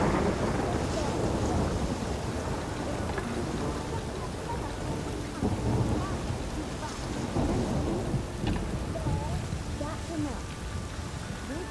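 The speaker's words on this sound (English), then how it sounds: "Rain again." Rain and rolling thunder from the video game The Witcher 3: Wild Hunt, a steady wash of rainfall with low rumbles, while voices speak over the storm.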